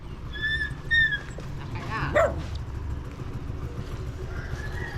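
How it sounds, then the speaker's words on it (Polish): Stray dogs sheltered at a house in the Philippines give high, thin whimpers and yips, then one sharper bark, over a steady hum of traffic and outdoor noise. "Psy wujka Eldrina"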